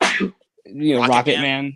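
A man sneezes once, sharp and close, followed right away by someone talking.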